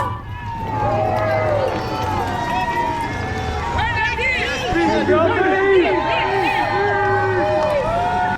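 A crowd of spectators along the New York City Marathon course cheers and shouts encouragement at runners, many voices rising and overlapping in a lively, continuous din nearby.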